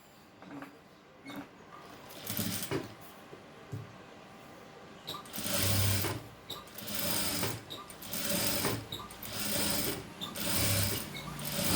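A tailoring sewing machine stitches a folded edge of blouse fabric in several quick bursts of rapid mechanical chatter, separated by short pauses, close and clear.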